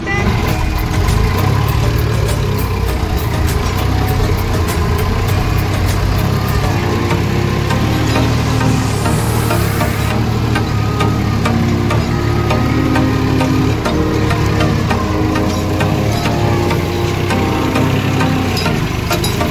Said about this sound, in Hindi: चला रहे हैं यहाँ पर ट्रैक्टर